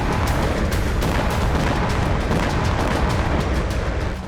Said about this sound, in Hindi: यूक्रेनी ड्रोन से हुआ जोरदार धमाका